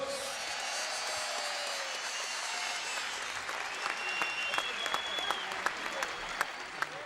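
Applause and crowd noise fill the room after a boxing title fight, a dense wash of clapping with sharper individual claps growing toward the end, while an announcer speaks over it.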